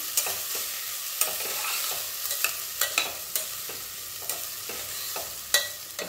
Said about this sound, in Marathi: व्यवस्थित असं हे परतून घ्यायचं आहे